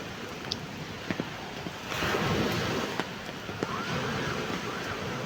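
Ocean waves wash onto a beach under an overcast sky, a close, steady roar of surf that swells in the middle, with wind noise and scattered small knocks.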